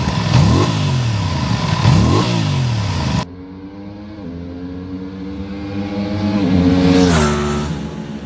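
An Aprilia RS660 Factory sport motorcycle's engine revs hard through repeated rising and falling sweeps, first loud and close, then more distant as it accelerates through gears and passes by.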